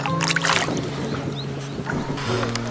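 An elderly woman's wooden boat is rowed by oar on the water on the way to a fish farm, giving creaks and soft water sloshes over a steady low hum, close and continuous.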